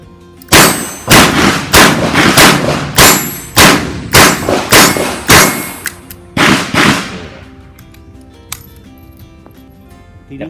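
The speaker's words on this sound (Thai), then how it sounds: "ยิงด้วยระบบดับเบิลเลยนะครับ" A Taurus M992 revolver fires about ten loud, sharp double-action shots in a steady rhythm, each blast with a short ringing tail, then a quieter stretch of clicks and handling as the firing stops.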